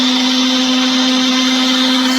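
A blender whirs loudly and steadily, blending nuts, pineapple, cinnamon and salt into a smoothie, an unbroken close motor drone with a high whine.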